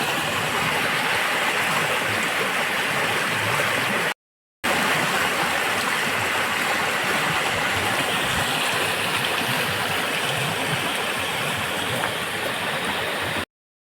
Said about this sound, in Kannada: ಇದು ಫಾಲ್ಸ್ ಹೇಳಿದ್ದು ನಾನು, ಚಿಕ್ಕ ಫಾಲ್ಸ್.